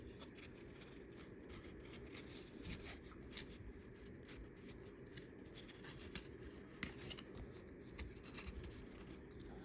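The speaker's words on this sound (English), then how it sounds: "These cards are not wanting to separate very easily." Stuck-together 2025 Topps Series 1 baseball trading cards are pried apart and handled, a steady close rustle of rubbing and flicking card stock with rapid light snaps, quiet and without talk.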